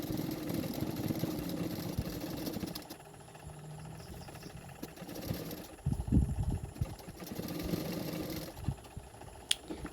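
Sewing machine stitching folded blouse fabric for a katori blouse neck finish, a steady mid-range motor hum running in bursts with brief pauses between, close and moderately loud, no talk.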